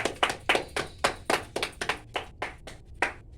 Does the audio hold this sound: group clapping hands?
yes